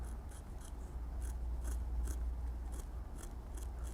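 A knife cutting fine hair lines into leather while carving a bear head, a series of short crisp scraping cuts in a fairly regular rhythm, close and quiet over a low background hum.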